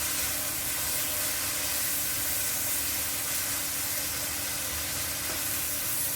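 Chopped onions frying in a pan, a steady, even sizzle and hiss running without a break and without voices.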